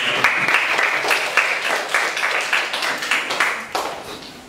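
A crowd applauds steadily, many hands clapping in a dense, continuous patter with a few louder bursts, no talking over it.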